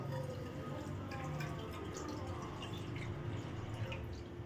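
Water pours steadily into a pan on a stovetop, a continuous wet splashing and trickling stream held at an even level throughout, close by, with no talk.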